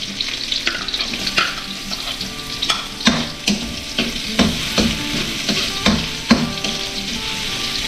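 Garlic, ginger and onion sauté in a hot pan for crab, a steady close sizzle broken by repeated scrapes and clacks of a spatula stirring, with no talk.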